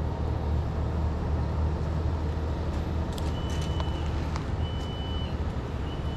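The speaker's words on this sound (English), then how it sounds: "Is that beep, is the crane beeping out of pleasure or pain?" Faint, intermittent electronic beeps come from a 110-ton knuckle-boom tree crane taking apart a large ash tree, sitting over a constant heavy engine drone with a few sharp clicks.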